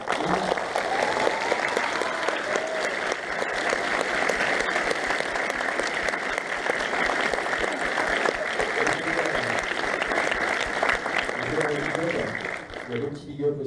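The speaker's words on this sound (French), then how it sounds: "Si vous l'applaudissez maintenant." A film convention audience in Rennes breaks into long sustained applause, dense and even, and voices come in as it fades near the end.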